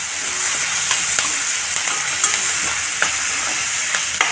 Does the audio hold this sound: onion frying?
yes